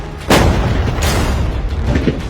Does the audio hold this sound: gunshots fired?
yes